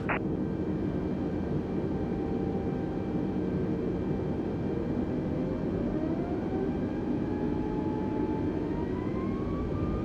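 Airliner jet engines spool up in a Flight Simulator game as thrust comes on for takeoff, a steady loud roar with a whine that climbs smoothly in pitch over several seconds, no voices.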